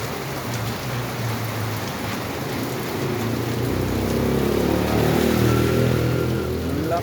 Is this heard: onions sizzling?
no